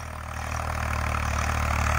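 A Swaraj 855 tractor engine idles steadily up close with a loud, constant low rumble and a fast rattling vibration from the hydraulic lift, unbroken and without talk.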